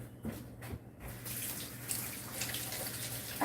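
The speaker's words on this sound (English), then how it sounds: "Let me go rinse my hands off." Water runs steadily from a tap while hands are rinsed, a continuous hiss with brief faint clunks near the start, close by and alone without voices.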